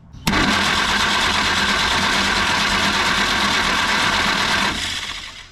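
A car engine cranking over on the starter right after its ignition points are set to a 20 thou gap, a steady loud churning drone that starts abruptly and runs for about four and a half seconds before easing off.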